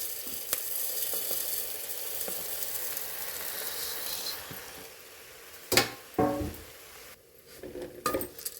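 Rice being fried with masala in a pan for Hyderabadi dum biryani sizzles continuously, then a few louder scrapes and clinks of a spoon against the pot break through toward the end.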